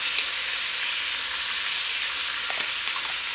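Chicken thighs fry in avocado oil in a pan, giving a steady, close, bright sizzle and crackle with a few small pops throughout.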